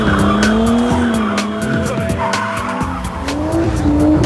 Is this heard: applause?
no